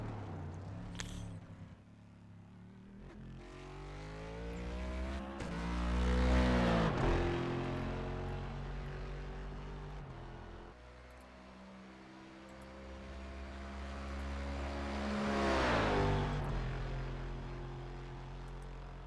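A Corvette C7 race car screams past on a qualifying lap at Mosport, its engine note rising and falling through two distinct pass-bys with gear changes, heard from trackside at moderate distance.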